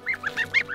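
A goose gives a rapid run of about five nasal honks, close and fairly loud, with nothing else around it.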